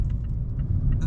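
Steady low road rumble inside the cabin of a 2024 Mazda MX-5 RF Grand Touring cruising on the highway at 70 mph, a continuous droning wind and tire noise with faint higher hiss.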